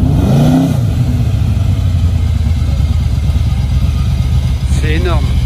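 A Ford GT40 Superformance sports car's engine gives a deep, continuous throaty rumble nearby while people talk over it.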